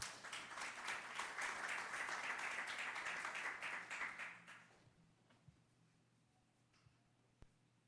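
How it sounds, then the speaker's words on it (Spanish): Audience applause at an environmental law conference session fills the first five seconds with dense, steady clapping, then fades to near silence broken by a couple of isolated taps. "Un fuerte aplauso para ella también."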